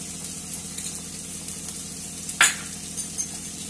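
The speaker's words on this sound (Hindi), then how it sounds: "ये देखिए तेल छोड़ दिया है और भून जाने दीजिए थोड़ा सा।" Masala sizzles in hot oil in a pan while cooking palak paneer, a close, steady frying crackle broken by occasional stirring scrapes and one sharp clatter of a spoon against the pan.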